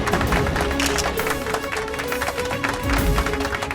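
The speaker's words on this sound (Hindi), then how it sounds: "जोरदार तालियों से स्वागत कीजिए नेहा शर्मा जी का" An audience at a fancy dress competition applauds as a participant is welcomed on stage: a steady, dense wash of many hands clapping, fairly loud and continuous throughout with no break.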